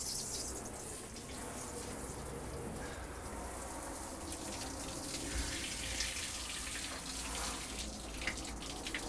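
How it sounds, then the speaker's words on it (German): Warm water at 36.5 degrees sprays from the shower head of a dog wash station, a steady faint hiss that continues unbroken throughout. "Ich wähle zuerst das warme Wasser."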